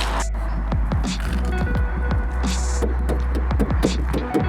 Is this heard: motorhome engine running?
yes